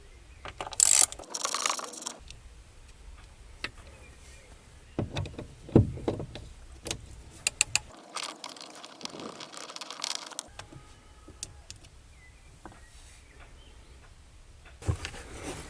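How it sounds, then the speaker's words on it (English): Screws are backed out of the door check strap on an MK1 Skoda Fabia (1999–2007), giving close ratcheting and clicking tool noise in short bursts separated by quiet pauses. "Take the screws out."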